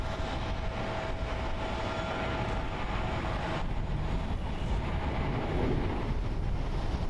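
Japan Airlines Airbus A350-900, about three years old, arriving on runway 22 at Tokyo Haneda, a steady broadband jet roar that holds loud and even throughout with no talk over it.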